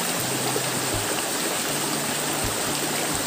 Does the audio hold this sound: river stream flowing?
yes